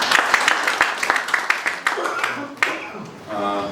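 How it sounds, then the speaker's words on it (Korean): A presentation audience at a 5.18 paper session gives a presenter a round of claps, distinct sharp hits in a loose rhythm that thin out and fade, followed by a voice speaking at the end. "들어가시는데 다시 한번 박수 한번 드립니다."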